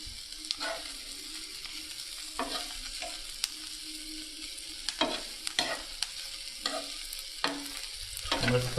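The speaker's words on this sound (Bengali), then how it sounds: "দেখছেন ভাজা হচ্ছে।" Food frying in a pan while making a cheese burger, a quiet sizzle under repeated scraping and stirring strokes at uneven intervals, growing busier near the end, with no speech.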